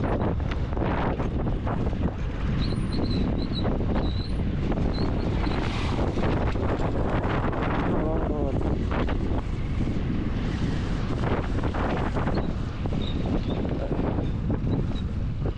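Strong cold wind buffeting a microphone during a ride on the high road toward Kunzum Pass in Spiti, a constant loud roaring rush with gusty surges, no voices.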